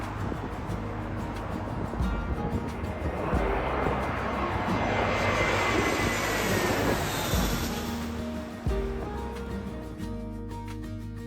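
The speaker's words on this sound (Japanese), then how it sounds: "ここではランウェイ34を使用する飛行機の着陸シーンを真正面から間近で見ることができます" A jet descends toward runway 34 at Fukuoka Airport, heard from close range directly in front of its approach path, its engine roar building to a loud, sustained rush and then easing, with faint background noise.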